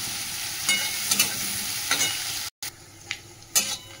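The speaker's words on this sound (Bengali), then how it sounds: "দিয়ে পেঁয়াজটা ভাজা হোক ভালো করে" Onion frying in oil in a pan, a steady close sizzle broken by several scraping stirs, with a brief silent gap partway through.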